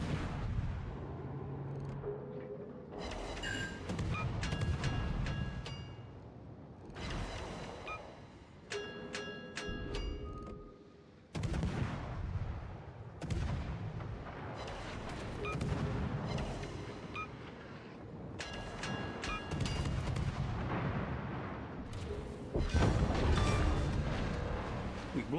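Heavy naval gunfire in a team naval combat video game, sounding as repeated deep booming salvos over a constant rumbling background, loud and continuous, with some voices and ringing game tones mixed in.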